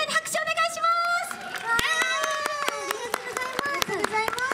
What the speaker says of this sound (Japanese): みんなに拍手お願いします。